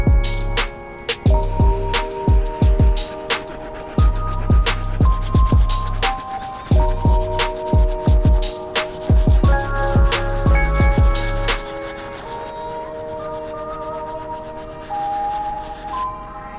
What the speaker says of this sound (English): Now let's move on to our medium bristle brush so we can continue scrubbing the uppers